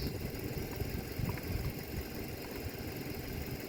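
A Mercedes W123 300D diesel, parked for 20 years, runs steadily with a low, rough mid-pitched drone and no talk over it, sounding like an old engine idling close by.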